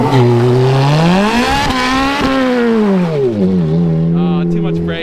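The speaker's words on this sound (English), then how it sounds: "I hate bouncing it off the rev limiter like that." A Ferrari F430 revving hard near the rev limiter and launching into a burnout. The loud, close engine note climbs, dips and climbs again, then drops back to a steady high drone.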